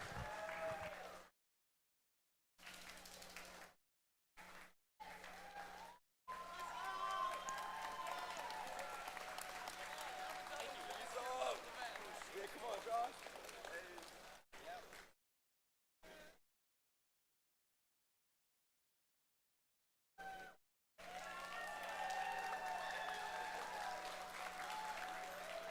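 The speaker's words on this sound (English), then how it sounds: "a big round of applause for our Rookie All-Stars" An audience applauds the Rookie All-Stars at a FIRST Chesapeake district robotics competition. The sustained clapping fills a large hall and is broken by several abrupt silent gaps, with a steady low hum running underneath.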